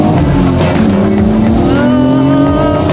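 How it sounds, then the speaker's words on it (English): A Nissan R34 GTR runs alongside a Lamborghini Squadra Corse, loud engine tones rising steadily in pitch as both cars accelerate close by, with someone talking over the roar. "this old school R34 GTR is keeping up with your Squadra Corsa, Dave"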